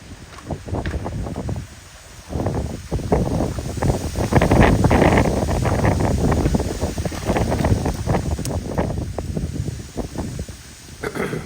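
Blustery super typhoon wind at about 80 km/h roars in heavy, continuous gusts that buffet the microphone, swelling and easing over the span with no voices.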